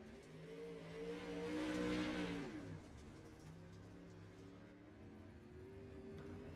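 A Pro Late Model dirt race car at Kern County Raceway roars past on the track, its engine swelling loud as it approaches and then fading to a distant drone.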